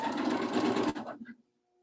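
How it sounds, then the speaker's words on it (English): A sewing machine stitches a quilted Christmas throw pillow seam, sewing past a point and backstitching, a dense steady mechanical whir for about a second before it slows and stops, leaving quiet. "So go sew past it and then backstitch and then sew forward again."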